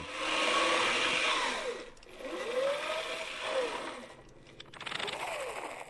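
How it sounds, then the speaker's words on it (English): An old hand-cranked army field generator whines close up, its pitch rising and falling in uneven surges as the crank speeds up and slows, with brief pauses between bursts. "There was a private cranking a generator to provide power for an army radio in the field."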